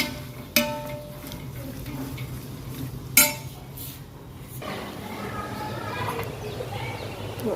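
Chickpeas fry in oil in a pan while a metal spoon stirs them, with sharp clinks of utensil on pan, a soft sizzle, and a voice speaking nearby.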